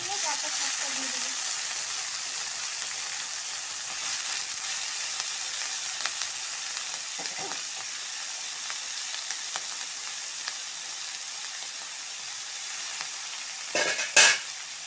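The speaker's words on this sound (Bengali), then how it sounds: "সবজিটা একটু ভেজে হালকা ভেজে দিয়ে তারপর শাকটা দিয়ে দেবো।" Vegetables lightly frying in a pan before greens are added, with a steady close sizzle and occasional scraping and clinking of stirring throughout.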